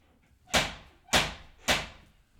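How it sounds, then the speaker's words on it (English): Three firm knocks at a door in the night, evenly spaced about half a second apart, each a sharp close thump that decays quickly into quiet. "I'm always curious about knocking sounds in the night."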